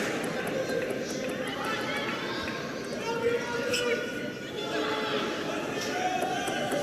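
A table tennis crowd at the Saudi Smash 2024 final between Wang Chuqin and Patrick Franziska keeps up a steady, dense roar of cheering and chatter that swells slightly partway through.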